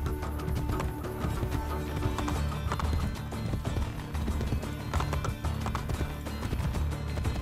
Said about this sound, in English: This is the slowest horse in any video game ever.